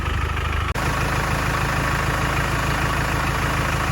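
A diesel engine with a leaking fuel injection pump idles steadily and close by, a constant low rumble with one momentary dropout near the start.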